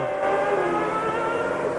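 A 1992 Formula One car with a Honda engine screams along a straight at a race in Australia, its high-pitched engine loud and steady for the whole stretch.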